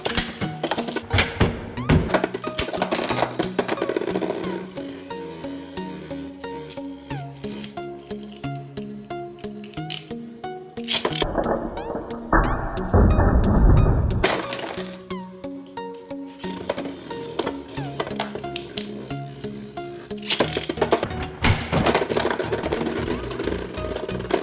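Beyblade Burst spinning tops battling, a Legends Brigand attack type against a jump type in a plastic stadium, with sustained whirring, rattling clashes and sharp knocks over about 24 seconds, close and busy.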